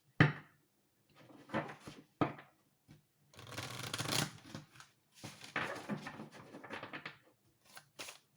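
Tarot cards are shuffled and set down into piles in short bursts of quiet papery rustling and riffling, separated by brief pauses.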